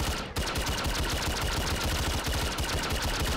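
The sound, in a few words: custom laser rifle shots, MTZ-556 Hammer of the Emperor, MW3 video game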